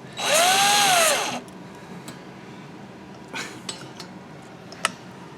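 A power drill whirs loudly for about a second, winding a guitar string, its pitch bending up and down, followed by scattered light metallic clinks and taps.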